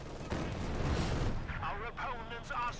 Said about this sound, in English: More artillery fire around the center.